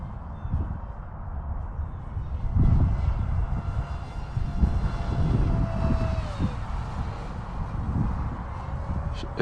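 A small RC Baby AR Wing Pro airplane on a 2S 3400 lipo flies with a steady electric propeller whine and airy drone, swelling and easing as it passes at moderate distance outdoors.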